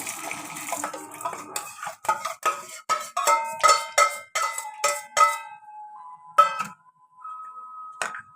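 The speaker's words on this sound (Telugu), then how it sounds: "ఇదిగోండి 1 by 1 అన్నీ మిక్సీలో వేసేసుకోవాలి, మిక్సీ జార్లో." Fried ginger chutney ingredients, including tamarind and garlic, are dropped one by one into a mixer jar, giving a series of bright metallic clinks and clatters with short pauses, close and without talk.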